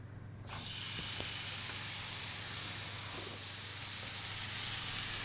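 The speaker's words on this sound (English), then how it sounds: "Right, that now is ready to go onto the griddle pan." Steak hitting a hot griddle pan over a gas flame, an abrupt onset of loud, dense hissing sizzle that holds steady and close for several seconds, with no talk.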